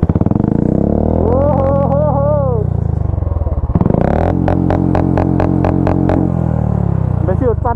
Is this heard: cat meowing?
no